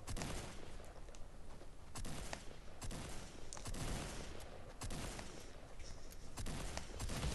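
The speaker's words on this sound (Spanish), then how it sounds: "Escopeta." Gunfire from Fortnite Mobile, a shotgun among it, comes as repeated sharp blasts cutting through a busy, dense game soundscape, steady and moderately loud, with no speech.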